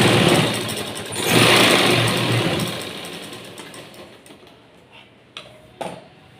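A sewing machine stitches a folded strip onto a blouse with a loud, fast mechanical whir that swells, then slows and fades, ending in a few isolated clicks and knocks.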